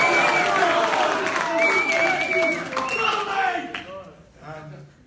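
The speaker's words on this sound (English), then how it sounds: "You're allowed to cheer for Josh Warrington." At a boxing press conference for a Selby versus Warrington bout, a crowd breaks into applause and cheers, loud at first and then fading, with someone speaking over it.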